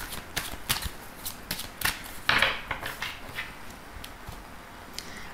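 Oracle cards being shuffled for a reading, soft repeated riffling and slapping of cards, close and quiet, with no talking.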